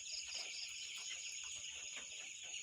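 Kalabat chickens, nineteen days old, cluck softly at night in a farm after feeding and rain, with a steady high electrical hum or insect drone over them. Faint scattered calls, no talking.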